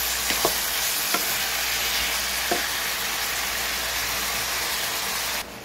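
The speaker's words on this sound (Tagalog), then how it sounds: "Atin lang itong gigisahin mabuti sa mga kajuit hanggang sa maging golden brown siya." Lamb pieces sautéing in a hot pan until golden brown, giving a continuous dense sizzle with a few sharp clicks from stirring, steady and close throughout with no talking.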